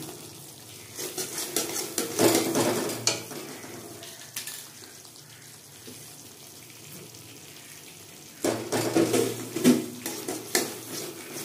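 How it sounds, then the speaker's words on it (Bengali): Crumbled raw paneer is stirred and sautéed in spice paste in a pan, making quiet scraping and clinking in two louder bursts separated by a soft, steady low sizzle. "পনিরটা দিয়ে আর একটু ভালো করে কষিয়ে নেব"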